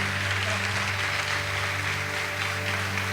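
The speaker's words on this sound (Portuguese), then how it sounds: "Aplauda esse Deus maravilhoso, querido." A congregation claps during a Portuguese-language youth church service, a steady moderate wash of applause over sustained organ or keyboard chords, continuous for the few seconds.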